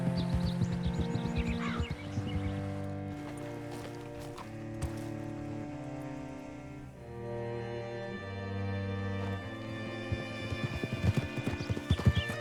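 Horse hooves clip-clop in Red Dead Redemption 2, a steady close rhythm of hoofbeats under swelling orchestral game music, with an occasional snort or whinny.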